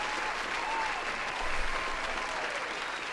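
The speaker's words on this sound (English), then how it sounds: "Another round of applause for you." A live audience breaks into a round of applause, steady and dense clapping that swells slightly midway and carries on throughout at moderate level.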